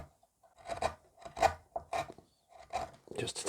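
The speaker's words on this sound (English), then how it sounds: "I'll just try and take a little bit more out the little spoon gouge" Small spoon gouge paring wood to flatten a hump in a carved piece, heard as a series of short, close rasping scrapes in uneven bursts with brief pauses between strokes.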